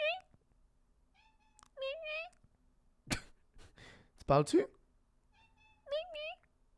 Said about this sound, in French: C'est le chat qui capote.